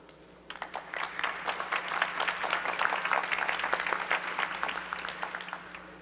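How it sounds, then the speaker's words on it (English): A conference audience at the World Knowledge Forum 2022 breaks into sustained applause for the session moderator, building quickly and holding steady for several seconds. "So please give him with a big round of applause."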